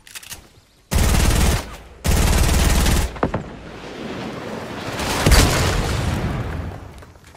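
Bursts of rapid automatic gunfire from the Fortnite video game, two long loud volleys of steady shots with brief gaps, followed by scattered single shots and a lingering noisy rumble.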